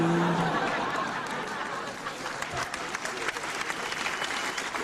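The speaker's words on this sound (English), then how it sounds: "And applaud." Audience applause at a Dutch-language stand-up comedy show, dense steady clapping throughout with faint scattered chuckles mixed in.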